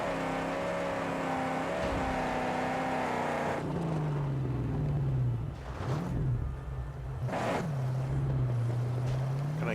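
A car in the video game Mad Max drives off-road, its engine droning with a steady low tone and then revving and falling in two swelling surges in the second half.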